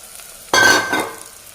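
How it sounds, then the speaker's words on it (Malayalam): A sudden loud sizzle as tamarind joins spices and curry leaves in a hot pan for fish curry, hissing sharply then fading over about a second as it is stirred. "ഇതിലേക്ക് പുളിയും കൂടി ചേർത്ത് ഒന്ന് വഴറ്റാം"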